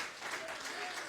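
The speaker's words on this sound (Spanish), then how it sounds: "Denle una ofrenda de aplausos" A church congregation offers a round of applause, a faint, distant, continuous patter of clapping with voices mixed in.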